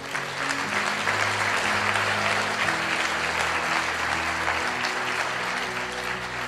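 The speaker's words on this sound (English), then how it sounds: "Give yourselves a round of applause." Sustained applause from an audience at a motivational speech, loud and steady throughout with a dense crowd texture, running the full length without voices on top.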